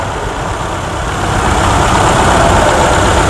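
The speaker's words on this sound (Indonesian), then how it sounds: "Suara mesinnya juga nggak kenceng nih, halus ya Mas Bro ya" A Honda HR-V engine running smoothly at idle, a steady, even hum heard close up that swells slightly louder partway through, with no voices.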